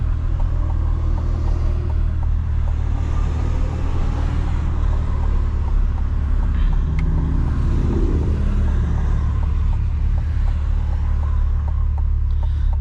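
A C8 Corvette driven in Sport+ mode, a loud, deep engine drone with a steady low rumble heard from inside the car, rising slightly in revs midway.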